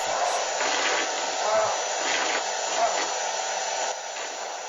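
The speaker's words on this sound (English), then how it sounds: "This is an old man and he's playing with a Hoover." A Hoover vacuum cleaner runs steadily throughout, a loud continuous broadband whirring hiss with slight rises and dips as it is moved about, easing a little near the end.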